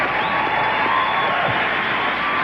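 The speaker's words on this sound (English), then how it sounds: "A round of thunderous applause" Audience applause and cheering for Pastor Dick at an evening fellowship gathering, a dense steady wash of clapping with scattered whoops held at an even level throughout.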